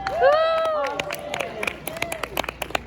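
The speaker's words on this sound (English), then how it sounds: "Can you have a round of applause for Austin?" Audience applause for a volunteer at a live talk on evolution and creation: a crowd claps in a scattered patter of sharp hand strikes that thins toward the end, with a voice speaking briefly over the start.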